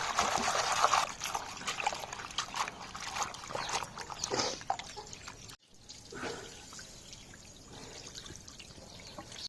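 Gongura pods being rinsed by hand in water splash and trickle in a steady, close series of sloshing and dripping sounds, louder at first, then quieter after a brief pause.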